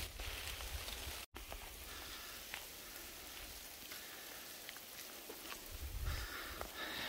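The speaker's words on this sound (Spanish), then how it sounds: "otra vez en nuestro viaje tenemos que irnos corriendo porque está empezando a llover" Rain falls steadily throughout, with a dense, even hiss of drops and a brief cut midway. It was recorded on a road trip through Italy in a camper van.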